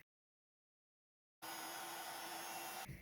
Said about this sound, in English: I'm just going to heat emboss that on here